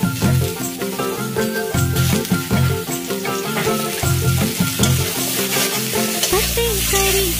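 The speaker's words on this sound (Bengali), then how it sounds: "এবার ভেজে নিচ্ছি উচ্ছেটা।" Bitter gourd sizzles in hot oil with salt and turmeric, a steady crackling fry with stirring, heard under loud rhythmic music playing throughout.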